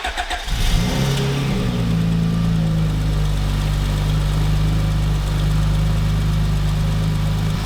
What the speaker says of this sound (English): let's start it up, see how it sounds